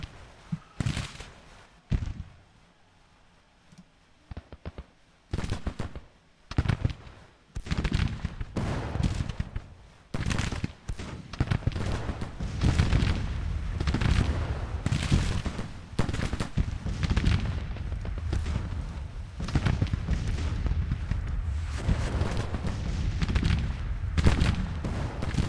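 Civil War soldiers fire muskets and artillery in Grand Tactician: The Civil War: scattered and then dense volleys of sharp cracks and booms crowd together, loud and irregular, after a quieter opening.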